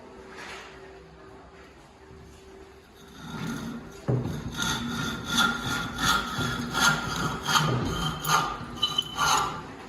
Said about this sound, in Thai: การเลื่อยนะครับ เราต้องต้องเลื่อยไป ด้านหน้านะครับ